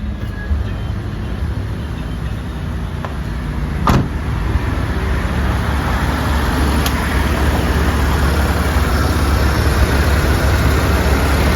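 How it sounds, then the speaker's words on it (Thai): A Mitsubishi Lancer 1.6 with a manual gearbox idles with a steady, even engine hum, close and constant, with a brief click partway through and no talk over it. "รอบเดินเบาปกตินะครับ"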